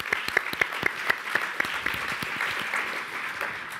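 An audience at a university startup contest demo show gives a warm round of applause, dense steady clapping with a few prominent close claps, filling the hall continuously.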